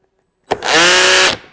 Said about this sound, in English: We'll go full drill mode.